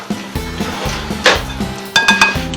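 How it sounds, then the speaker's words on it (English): A potato masher pressing butter into flour for quiche pastry in a bowl, a series of dull knocks and scraping clinks against the dish at an uneven rhythm, close and fairly loud, with no talking. "Try and mash some of that butter in there, since I don't have a food processor."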